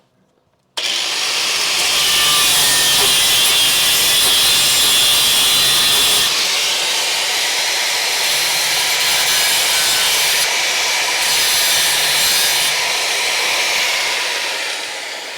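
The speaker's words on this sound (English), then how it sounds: "I'm cleaning up the edges so we got something nice and clean to weld to" A power tool abrades metal edges on a Crew Cab Charger restoration, prepping them for welding; a loud, continuous grinding rasp starts abruptly and runs close by without pause.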